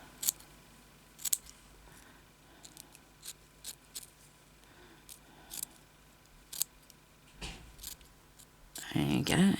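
Scissors snip the ends off a beaded craft piece, giving a few short, quiet cuts scattered through the clip before a louder rustling burst at the end.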